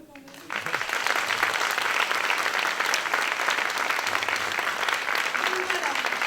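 Audience at a fashion show applauding the sound engineer, a dense roar of clapping that swells in after a brief quiet start and stays loud and even, with faint voices mixed in.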